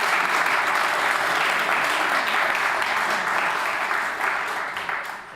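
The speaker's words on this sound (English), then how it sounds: "Yeah, you can applaud." An audience at a political conference in Amsterdam claps steadily and densely for several seconds, the applause holding strong before tapering off slightly at the end.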